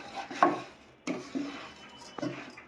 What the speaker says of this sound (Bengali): এখন ভালো করে চালগুলো ভেজে নিচ্ছি।